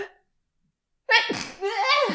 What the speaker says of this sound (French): je me suis tournée pour éternuer